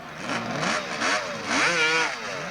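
A street legal two-stroke drag racing motorcycle at a 1990s Snetterton drag meeting revs in repeated rising and falling bursts, loud and fairly near, a buzzing whine with no talk over it.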